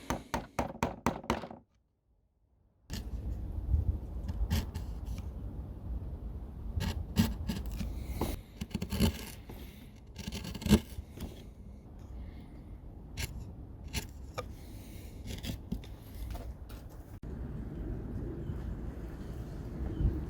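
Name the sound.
chisel scraping and cleaning up coaster edges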